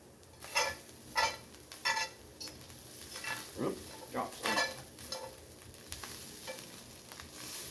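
Corned beef hash frying in a Lodge carbon steel skillet, sizzling steadily while a spatula scrapes and stirs in several distinct bursts, close and moderately loud, with no talking.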